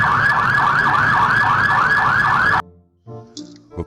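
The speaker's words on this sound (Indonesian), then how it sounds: "yang ini mobil pemadam kebakaran" A toy fire truck's electronic siren wails in loud, rapid rising-and-falling cycles, then cuts off abruptly, leaving a few faint clicks and handling sounds.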